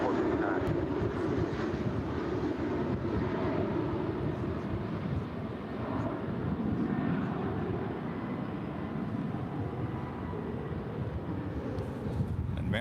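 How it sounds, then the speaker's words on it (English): An American Airlines Boeing 737 takes off from runway 18 left at DFW with a steady, broad engine roar heard from a distance, continuous and slightly wind-buffeted. "American 737 taking off on 18 left."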